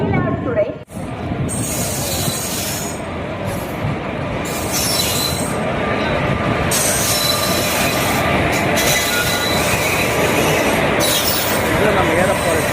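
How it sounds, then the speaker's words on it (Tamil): Mayiladuthurai–Sengottai Express pulling into a station behind a diesel locomotive, wheels squealing shrilly and continuously against the rails over a loud rumbling roll, close and sustained. "நம்ம ஏறப்போகிற ட்ரெயின் மயிலாடுதுறை செங்கோட்டை எக்ஸ்பிரஸ் திருச்சிக்கு போகிறது"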